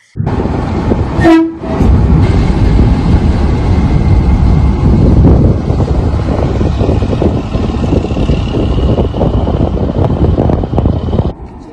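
An electric locomotive on a test run rumbles steadily past at close range across the Chenab Bridge in India after a brief horn toot, loud continuous rolling noise with wind buffeting the microphone.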